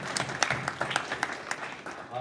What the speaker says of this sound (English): I want to also give another round of applause for Dr.